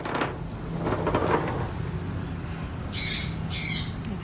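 Pigeons waiting for wheat grain give two short, bright calls close together near the end, over a steady low background hum with no talking.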